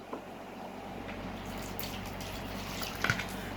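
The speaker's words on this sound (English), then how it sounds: "You have to add a little water to it." Water pours steadily into a bucket, a continuous close splashing and gurgling flow with a small drip-like splash near the end and no talking.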